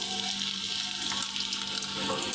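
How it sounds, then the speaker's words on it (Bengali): Chopped onions fry in hot oil in a pot, giving a steady, dense, close sizzle that holds without a break and with no talking. "আমার তেলটা গরম হয়ে গেছে মোটামুটি। তো আমি এখানে পেঁয়াজ কুচিগুলো দিয়ে দিলাম।"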